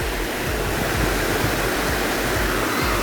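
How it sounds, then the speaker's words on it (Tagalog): Strong river current rushing near a cave, a dense, loud, continuous roar of churning water filling the whole clip with no voices. "Lakas ng Agos."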